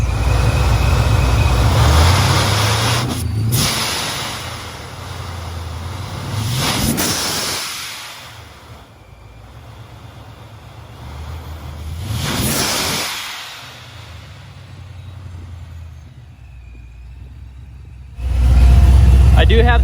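Supercharged LS3 V8 in an old Ford OBS truck, exhaust running through dual MagnaFlow mufflers, rumbles steadily up close with several sharp revs climbing and falling, plus a final loud burst.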